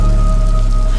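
Heavy rain pours as a drama sound effect, a loud, dense, continuous patter with a low steady hum beneath it.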